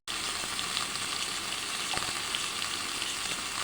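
Potatoes fry in hot oil with whole cumin, bay leaf and cinnamon for a Bengali koi fish curry, producing a continuous dense, even sizzle from close by, with no voices.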